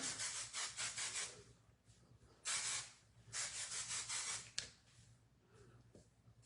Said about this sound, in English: because we need more hairspray